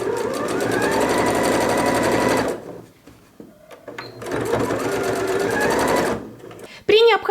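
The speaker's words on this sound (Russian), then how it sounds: "обрезаем нитки начала строчки, дошиваем и здесь делаем закрепку." A sewing machine runs in two steady bursts of rapid stitching on fabric for a storage organizer box, close and loud, with a short pause and a clunk between and at the end.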